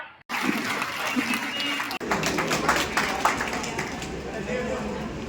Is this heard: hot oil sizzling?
no